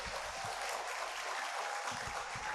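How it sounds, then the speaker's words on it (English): At a high school graduation ceremony, the audience gives a round of applause that comes across as a soft, steady wash of clapping. A few low thumps break through near the start and end. "Indeed, we can give them another round of applause."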